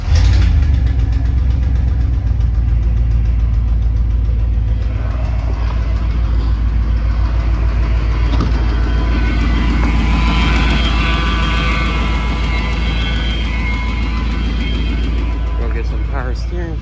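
A Dodge Ram with a freshly fitted muffler runs steadily, a deep continuous engine rumble filling the whole stretch with a faint whine on top, while a person talks nearby.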